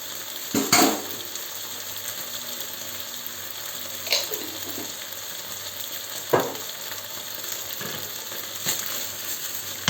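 Garlic paste, about two teaspoons, sizzles in a hot pan with a steady low hiss, broken by a few louder scraping stirs near the start and around the middle; no voices.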